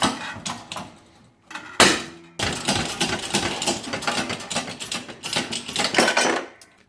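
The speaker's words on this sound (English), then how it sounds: "We'll put it in our 6-ton press and punch it out." Metal coin blank punched out in a Harbor Freight punch and die set inside a 6-ton press, heard as sharp metallic clanks and knocks, a loud impact near two seconds, then a busy run of clattering metal handling, with no speech.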